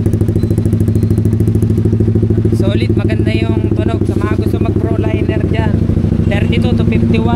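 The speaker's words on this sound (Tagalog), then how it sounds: "Solid, maganda yung tunog sa mga gusto mag pro liner dyan." A Honda Winner X fitted with a replica Pro Liner exhaust idles loudly nearby with a rapid, rough thrumming beat, while someone talks over the engine for most of the stretch.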